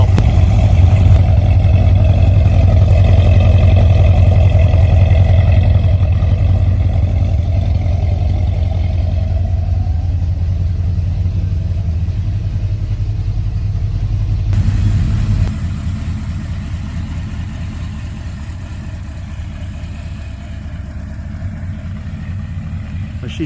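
A loud project car engine runs close by, a heavy steady roar that eases slightly and then drops to a lower rumble partway through.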